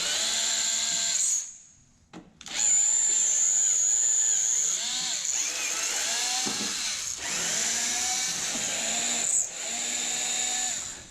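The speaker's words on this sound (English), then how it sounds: "Let's get the screws out of here." A power drill backing screws out, its steady high whine running in long stretches with short stops and restarts between screws, fairly close and with no talk.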